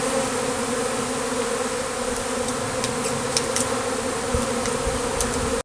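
A honey bee swarm being gathered from a branch, producing a dense, continuous buzzing hum that stays loud and close throughout, with faint ticks of handling and no voices.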